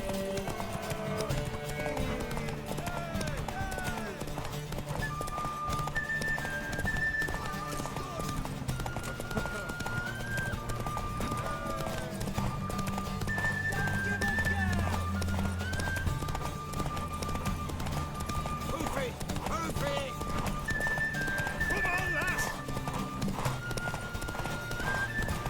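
Horse hooves clip-clop steadily with occasional whinnies in The Witcher 3: Wild Hunt, while people talk over the sound and light music plays.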